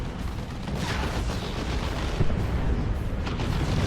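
Barbed Strangler artillery from the Tyranid army in Dawn of War 2 pounding the battlefield, a dense continuous rumble of explosions and booms that stays loud without letting up.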